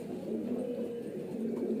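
Young highflyer pigeons of the Sheetla breed coo softly and steadily in a low, continuous murmur at close range, with no talking over them.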